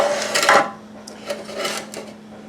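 Metal baking pans clatter and scrape briefly as they are handled in a kitchen, a few close rattling knocks with a steady hum underneath.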